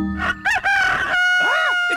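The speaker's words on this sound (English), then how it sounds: "It's the cockerel from the elf farm." A cockerel from a farm crows loudly and close, a short rising call then a long sustained cock-a-doodle-doo, with tonal animated-cartoon sound around it.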